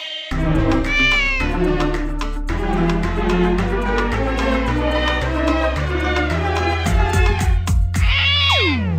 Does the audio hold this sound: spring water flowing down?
no